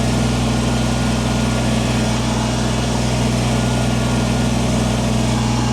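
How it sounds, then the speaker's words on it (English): A Kubota tractor with a front loader idles steadily as it drives into a garage, a loud, constant low engine drone with no talk. "Tractor back in the garage."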